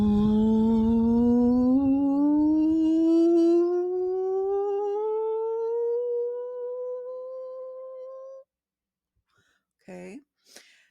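A single voice holds a buzzing L sound as a vocal exercise, rising slowly in pitch over about eight seconds. Silence follows, then a couple of short breaths.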